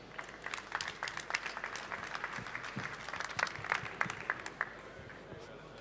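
An audience at an institutional plenary conference in Toulouse applauds to welcome a speaker, a steady roomful of clapping with scattered louder claps that holds for the whole stretch without talk.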